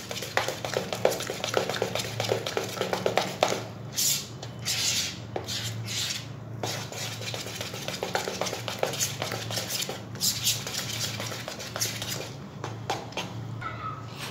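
A spoon stirs gulab jamun pieces into cake batter in a bowl, giving repeated close scraping and clinking strokes of metal against the bowl in an uneven rhythm with no talking.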